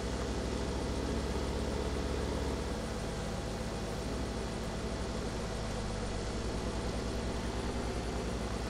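A sugar cane harvester engine in Farming Simulator 17 drones steadily and continuously at moderate level, a dense unbroken machine rumble with no talk over it.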